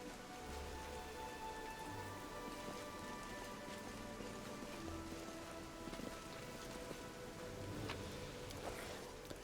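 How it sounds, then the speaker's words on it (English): Steady rain pattering on surfaces as ambience in a tabletop RPG session, a soft, continuous wash of drops with faint tonal hums underneath and no voices. "It's a rainy day, huh?"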